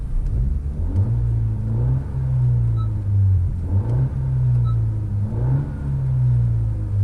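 A 2019 Honda Civic Si Coupe engine in sport mode hums steadily up close, rising and falling in pitch through a few gentle revs, with no talking.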